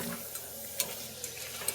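Potato rose snacks fry in hot oil with a soft, continuous sizzle. A few light clicks of stirring break through now and then, and no voices are present.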